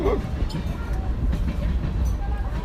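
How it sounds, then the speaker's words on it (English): A train passes nearby with a steady low rumble and faint rail clatter that stay constant throughout. "Oh, them trains be coming."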